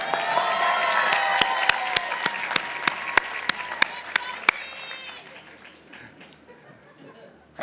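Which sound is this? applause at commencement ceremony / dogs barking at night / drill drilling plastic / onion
applause at commencement ceremony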